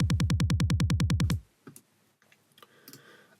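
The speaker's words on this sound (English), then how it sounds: "So this kick drum is a different sample." Clicky kick drum sample for a build-up: about fourteen fast, evenly spaced punchy thumps in a tight rhythm, then stopping abruptly into near-silence with faint clicks.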